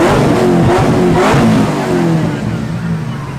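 Supercharged LS3 V8 swapped into a BMW E36, revving loud and close in a steady rising and falling engine note that eases slightly toward the end, with faint voices underneath.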